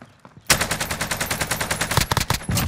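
Rapid automatic bursts from an AK rifle in a video game: loud, close, evenly spaced shots in a long string, with a short pause before a final burst, preceded by faint background noise.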